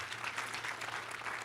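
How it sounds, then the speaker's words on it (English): Audience applause at a Kenya School of Government centenary session, a steady dense wash of clapping from a seated crowd that holds level for the whole short stretch without any voices. "let us give him another additional clap"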